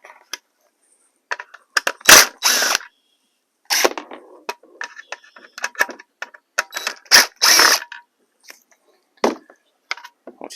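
A screwdriver backs Phillips screws out of a Honda Odyssey turn signal lamp assembly, giving short clicky scrapes and ratcheting bursts separated by silent gaps, close and fairly loud.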